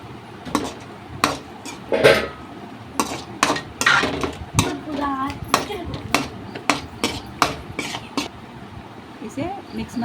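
A spoon mixing yogurt into biryani masala in a pot, knocking and clinking against the metal in an uneven rhythm of sharp taps, with a voice talking now and then.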